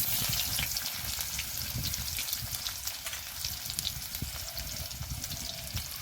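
Whole cumin and chopped onion frying in oil for a Bengali bhola fish curry, a soft steady sizzle with light crackles, fairly quiet and free of speech.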